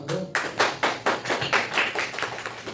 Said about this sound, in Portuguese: Vamos aplaudir a oração do Vadão.